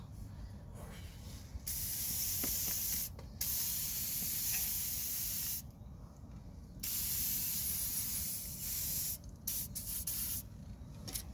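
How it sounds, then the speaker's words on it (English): Penetrating oil sprayed onto the front suspension nuts and bolts of a Toyota Yaris during a coil spring change: several long hissing aerosol bursts separated by brief pauses, close and fairly loud. "I'm gonna apply plenty of penetrating oil so that these nuts and bolts come easy."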